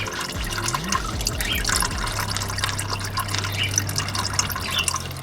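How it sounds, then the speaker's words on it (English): Gearbox oil from a VW Polo 9N3 GTI pours and trickles steadily into a bucket, with dripping and splashing throughout under a low mechanical hum. "So then that can drain nice and easily into your bucket."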